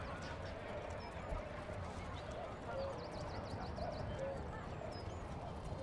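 Horses in the medieval town-building game Manor Lords make soft, faint clip-clop hoof sounds under a steady bed of ambient village noise, with occasional small bird chirps.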